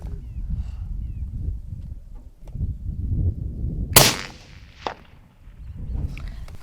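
Rifle firing a single sharp crack at a ground squirrel during varmint hunting in open country, loud and close, followed by a short echo, with wind and rustling before and after.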